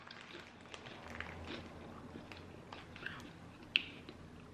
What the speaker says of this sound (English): The crunch on these chips is phenomenal.